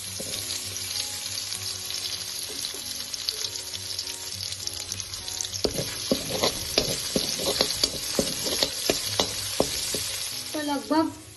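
Chopped green chilies and raw potato pieces sizzle in a hot pan for a Mahashivratri fasting dish, a steady fry broken by repeated scraping stirs in the second half, close and alone without talk.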